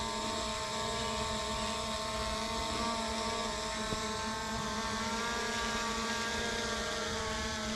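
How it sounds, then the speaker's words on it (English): A Skydio 2 drone hovers and drifts overhead, giving off a continuous buzzing, whining propeller drone at a steady, moderate level, with no voices. "Well, the drone is moving around up there some."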